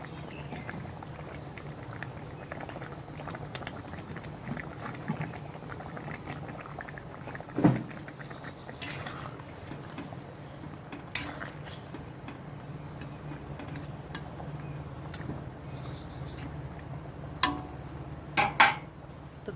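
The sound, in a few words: fish curry broth boiling in a pot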